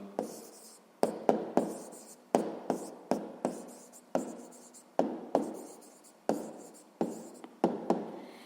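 Numbers are handwritten for a sixth-grade maths exercise, a close, dry scratch of pen strokes in short bursts with sharp taps between them, repeating steadily with no talking.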